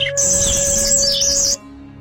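High, bright bird chirping and trilling rings out steadily over a low background hum, then cuts off abruptly partway through, leaving only a faint drone.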